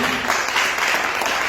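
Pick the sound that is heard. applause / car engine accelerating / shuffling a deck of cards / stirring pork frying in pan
applause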